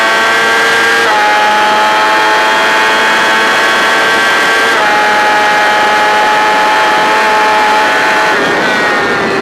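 A motorcycle engine on a racetrack at high revs, loud and steady, droning with a strong tone that shifts pitch at gear changes, close and with no talking.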